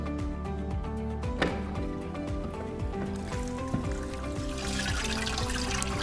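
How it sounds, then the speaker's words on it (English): Water trickles and drips off a lifted pool cartridge filter element, a continuous close splashing dribble with steady pattering. "allowing the excess water to drain off"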